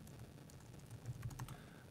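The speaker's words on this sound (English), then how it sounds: "I'm just going to type in mealworms" Someone types a short search on a computer keyboard, producing a quick, uneven run of close, crisp key clicks with no one talking.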